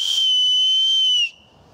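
A loud, shrill homemade large whistle gives one sustained steady blast of about a second and a quarter, then cuts off abruptly, leaving a faint low rumble.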